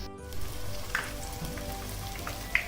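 Oil heats in a pan over a flame for a chicken biryani tadka, giving a faint, steady sizzle and crackle with a couple of small pops.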